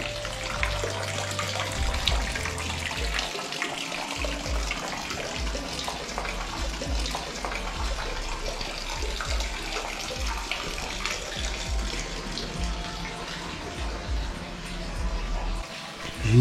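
Water runs steadily in a public wash house, a lavoir, where someone showered and washed clothes, a constant close splashing gush that goes on throughout, with a voice talking over it at times.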